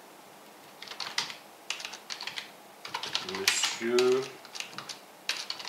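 Typing on a computer keyboard, a string of quick light key clicks coming in short bursts, with a voice speaking briefly in French partway through.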